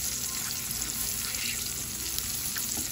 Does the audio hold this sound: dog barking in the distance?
no